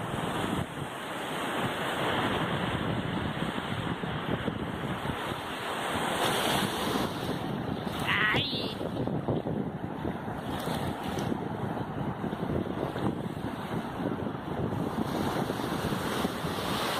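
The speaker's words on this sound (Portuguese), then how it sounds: "Olha o mar lá dentro." Sea surf rolling in at the coast with steady wind buffeting the microphone, a continuous broad wash of waves that stays loud and even throughout, with no talk.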